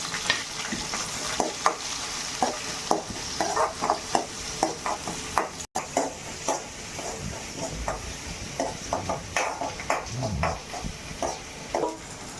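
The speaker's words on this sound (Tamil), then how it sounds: "வெங்காயம் பூண்டு நல்லா வதங்கிருச்சு." Onions and garlic sauté in a pan with mustard seeds, fenugreek and curry leaves, a soft steady sizzle broken by frequent spatula scrapes and taps, close up, with a dog barking faintly at moments.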